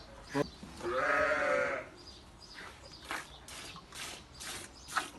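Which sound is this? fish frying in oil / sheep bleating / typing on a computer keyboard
sheep bleating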